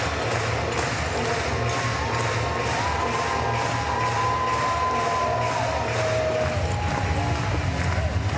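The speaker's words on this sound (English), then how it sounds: "I'm sure will be given a very warm ovation" A sustained crowd ovation at the Paris 2024 weightlifting competition, with steady applause and cheering that fill the arena evenly and a faint whistle-like tone drifting over the roar.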